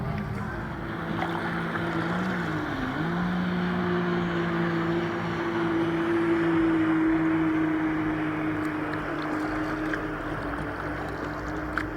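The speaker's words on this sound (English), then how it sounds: "there's a lot of boats and stuff going around" Motorboats pass on the Suwannee River, a steady low outboard engine drone with a tone that dips and then holds, moderately near, over wind and water wash, no talk.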